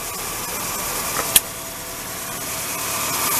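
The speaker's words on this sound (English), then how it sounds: "All right, we got a smooth running engine again." A 2003–2004 Nissan Frontier engine runs smoothly after repair, a steady close mechanical hum and hiss with one short sharp click partway through and no talking.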